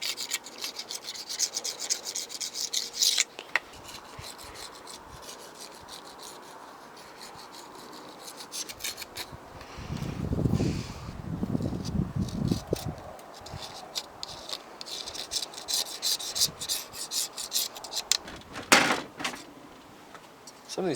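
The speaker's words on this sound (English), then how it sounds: "I'm just scraping it off with a razor." A razor blade scrapes old butyl off anodized aluminum trim from a 1971 Mach 1, giving repeated close rasping strokes in bursts over about twenty seconds, with a low rumbling thump in the middle.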